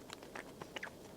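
Strawberry soboro bread being eaten: soft, close chewing and mouth sounds in a few quick bites, faint and alone.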